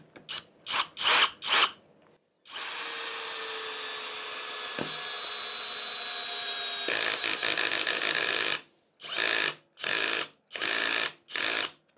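Parkside PBSPA 12 C3 12V cordless drill in first gear driving an 80 mm screw: a steady whirring motor run of about six seconds, preceded and followed by several short, loud bursts of the motor starting and stopping, with no talking.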